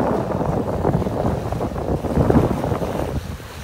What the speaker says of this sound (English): Feel that wind now.